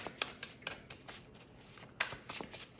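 Tarot cards shuffled by hand in a quiet room, giving soft, close, papery riffles and slaps in quick irregular bursts with short pauses between them.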